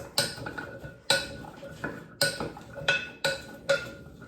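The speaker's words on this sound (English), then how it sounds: "Put that in. Let's give it a mix." Beef stew ingredients being mixed in a pot, giving a series of sharp metallic clanks and scrapes from a utensil against the pot, about six distinct knocks in irregular rhythm, close and fairly loud with no talking.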